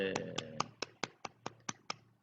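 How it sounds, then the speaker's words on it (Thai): Light hand clapping at a slow, even pace, about ten separate claps, soft and fairly close, following a brief musical chime at the start. "ปรบมือ"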